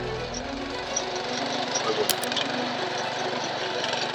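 A 7 HP premium power weeder runs during a farm demo, its engine a steady rough drone with a few clatters, fairly faint under people talking.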